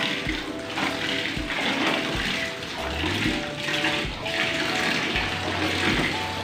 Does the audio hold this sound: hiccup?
no